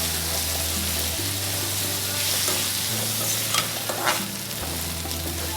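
Onions for a papaya dish frying and being stirred in a pan, a steady broadband sizzle with scraping stir strokes and a low background hum, close and continuous without talk.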